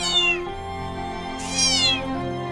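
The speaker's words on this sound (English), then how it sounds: "A kitten got trapped under the wheel and was meowing in terror." A trapped gray kitten with white speckles meows in distress, two loud, high wavering cries close by, the second rising sharper, with no voices.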